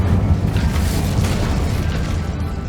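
Incendio fire spell cast in Hogwarts Legacy, a sustained loud rumbling whoosh of flame that fills the clip evenly, broad and dense, with no talking.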